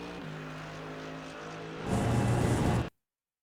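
A Mercedes GT3 race car in the iRacing sim at Road America holds a steady engine drone that swells into a louder, harsher full-throttle roar before cutting off abruptly.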